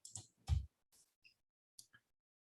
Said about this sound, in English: So I'm going to click OK.